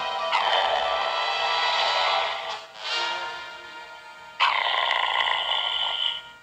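A human voice imitates a ferocious wolf, growling hoarsely into a microphone in two long rasping snarls with a short gap between them, loud and close, with no other talk.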